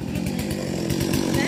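A chainsaw cuts through a royal palm trunk in Go Cong, its engine droning steadily at close range with rapid pulsing chatter.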